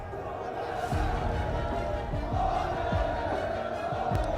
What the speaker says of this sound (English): Our players walking out on stage, there are mixed reactions within the crowd